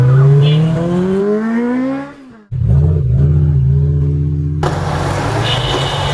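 A Yamaha R15 motorcycle revs loudly with rising engine pitch, drops off briefly, then pulls away with a steady, strong engine roar that carries on as it rides off.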